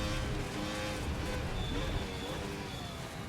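A 1990 V10 Formula 1 car driven in the Assetto Corsa racing game, a continuous loud engine drone with shifting high-pitched whine, steady and close without letup.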